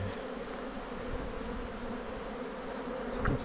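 Honeybees swarm around an opened hive in Mafate, a steady soft buzzing hum filling the air without pause and with no voices.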